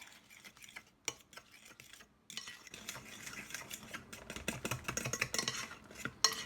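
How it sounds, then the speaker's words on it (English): Zucchini brownie batter being mixed in a bowl with a utensil, quiet scraping and clinking at first, then a faster run of rhythmic taps and clicks against the bowl. "I'm going to mix this well until it's smooth"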